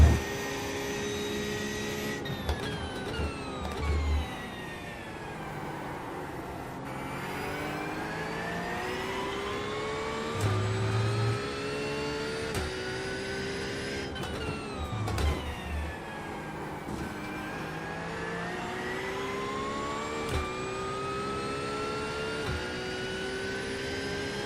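A GT3 race car engine in iRacing at Daytona, revving hard through rising gear sweeps with sharp upshifts, loud and continuous, with brief drops between pulls and no talk.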